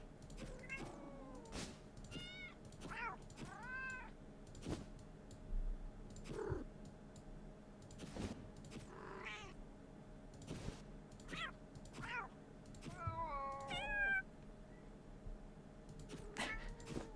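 A cat in the Finding Cats game meows several times, with short rising and falling calls spread across the stretch between sharp clicks over a quiet background.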